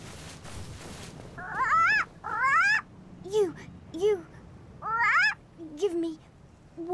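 Snuggly the Crow, a trader in Dark Souls, gives a series of warbling, rising cries in short bursts, several calls at irregular intervals over a faint ambient background.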